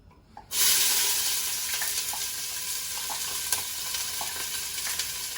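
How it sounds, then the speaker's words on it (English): Onions, garlic and ginger drop into hot oil after a brief quiet moment, bursting into a loud, steady sizzle with occasional soft clinks and taps of a utensil against the pan. "I have my oil heating, and the first thing I'm going to do, of course, is to fry"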